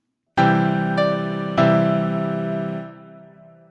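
A few sustained piano-like notes sound in sequence, each struck note ringing and overlapping before slowly decaying into silence.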